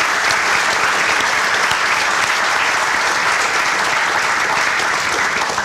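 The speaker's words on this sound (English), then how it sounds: "Let's give these folks a big round of applause." A large crowd applauds steadily and loudly at a stadium renovation groundbreaking ceremony, a dense unbroken wash of clapping lasting several seconds with no talk over it.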